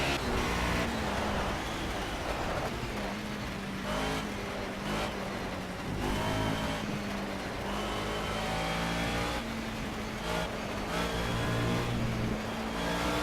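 Mercedes 190E race car in the Project CARS video game pulling out of the pits on cold tyres, its engine droning and revving steadily up and down through the gears, loud and continuous with no talk.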